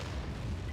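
A single deep, muffled boom of a self-propelled artillery gun firing in World of Tanks, heavy low rumble filling the short moment with no talk.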